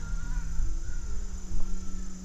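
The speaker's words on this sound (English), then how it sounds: "and some birds behind me making some noises." Crows cawing outdoors at a moderate distance, a few harsh calls over a steady low hum and background noise.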